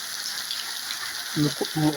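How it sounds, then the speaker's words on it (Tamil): Steady rain falling outdoors in Jaffna, a constant broad hiss throughout, with a few low thumps or voice-like sounds briefly near the end. "மக்களே மழையை பாருங்கள்"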